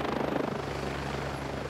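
A helicopter arriving at a water park, its rotor thumping rhythmically beneath a steady engine drone, fairly faint and distant.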